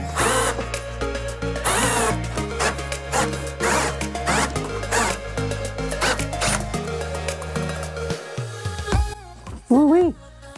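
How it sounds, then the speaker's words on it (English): An electric drill driving a wire stripper machine whirs in repeated bursts close by, with metallic grinding and a rising whine near the end, while someone talks over it. "Let's hook the drill up to it."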